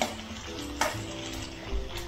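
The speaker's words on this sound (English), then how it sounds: "Sliced onions go in next. The onions have to be browned well" Sliced onions frying and browning in a pan for Punjabi kadhi, a soft continuous sizzle with occasional clinks and scrapes of stirring, quiet and close, without talk.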